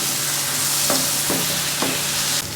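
Potatoes and torn chillies sizzle in a pan, a loud continuous close frying hiss with a few brief stirring scrapes, then the sizzle drops slightly near the end; no one speaks.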